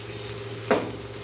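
Chicken 65 thokku mixture with onions sautéing in a pan, a steady low sizzle with one brief stirring scrape in the middle, close and fairly quiet, no talking.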